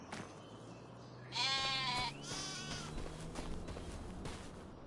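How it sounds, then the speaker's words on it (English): In Farming Simulator 25, a baby goat gives a loud, close, wavering bleat, then a second softer one shortly after, over steady farmyard ambience. "Oh, you little baby goat."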